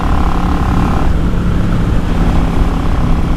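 Yamaha XVS650 motorcycle with straight pipes, MAC cocktail-shaker baffles, pod filter and new Mikuni pilot jets on a test ride, a loud continuous engine roar with a steady throaty rumble and a slight pitch shift midway.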